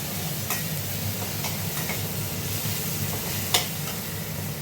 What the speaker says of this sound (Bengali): কাঁচা লঙ্কা বাটা দিয়েছি, ধনে পাউডার, হলুদ পাউডার সব দিয়ে একটু তেলে নাড়াচাড়া করে নেব